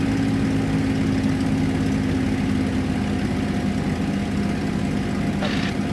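A 1,600 horsepower aircraft engine runs at cruising power in flight, a steady, loud, unbroken drone that fills the whole stretch from inside the cockpit.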